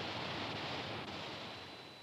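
Steady broadband rush of spray from a waterfall, a continuous close, loud hiss of falling water with no other sounds.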